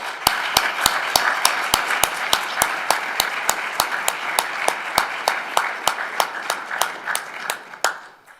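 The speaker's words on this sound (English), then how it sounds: "let's give a big applause to our panel" A conference audience applauds a panel at the European Carbon Farming Summit with sustained clapping. One sharp, loud clapper stands out in a steady rhythm close by, and the applause thins out near the end.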